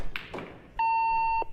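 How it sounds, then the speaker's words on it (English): An answering machine gives a single clean electronic beep, held for about half a second after a couple of soft thumps and clicks. "if you'd like to leave a message for Mr. Loss, begin talking after the beep."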